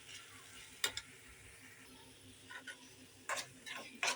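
A spoon stirs village-style ridge gourd curry cooked in milk in a pan, making a handful of faint scraping strokes over a soft, quiet sizzle, with no speech.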